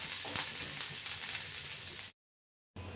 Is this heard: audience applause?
no